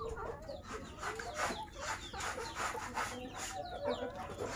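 Free-ranging chickens cluck and murmur in a loose, continuous chorus around a farmyard coop, several birds close by at a soft, steady level.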